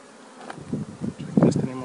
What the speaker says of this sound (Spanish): Aquí les tenemos las abejas